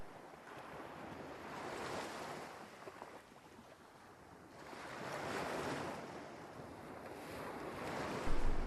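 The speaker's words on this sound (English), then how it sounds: "Damn, the waves are already rising." Ocean surf breaking on a rocky island shore rolls in two broad swells, heard close with gusty wind buffeting the microphone and a sharp knock near the end.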